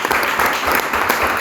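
A festival audience at the official opening of a literature festival bursts into loud, dense applause, many hands clapping steadily throughout.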